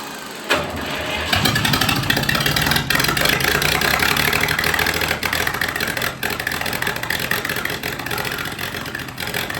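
A 1962 tractor engine, revived after sitting 25 years, fires up and runs steadily, a loud, dense mechanical roar close by that holds throughout without any talk.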